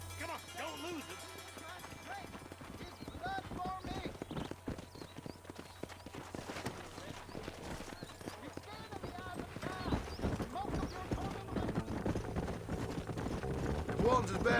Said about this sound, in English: Pra cima, chama o cavalo.